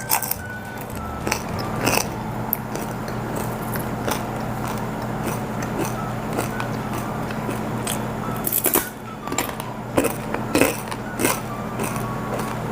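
Crunchy homemade Milo wafer stick being bitten and chewed close to the mic, scattered sharp cracks over a steady low hum, with a cluster of louder crunches near the end.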